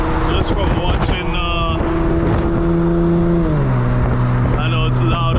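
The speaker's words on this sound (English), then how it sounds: "The car is loud, the windows down, everything's loud." A loud supercharged Infiniti G37 engine drones and rises in pitch inside the cabin with the windows down, with wind buffeting and road noise, and a voice speaking over it.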